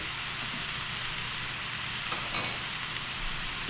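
Ground meat browning in a hot pan for a Philly cheesesteak-style sloppy joe, a steady, dense sizzle and crackle running throughout with no voices.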